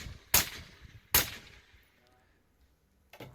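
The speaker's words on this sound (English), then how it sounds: "I did shoot that target a third time" Two sharp pistol gunshots crack close by at a USPSA competition stage, spaced under a second apart, followed by a quiet pause and the start of a third shot.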